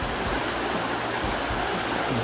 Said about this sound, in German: Jetzt verabschiede ich mich vom Bach da.